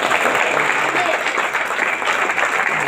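Church congregation clapping in praise to the Lord, a dense, steady burst of applause filling the room for about three seconds, loud and continuous with no break.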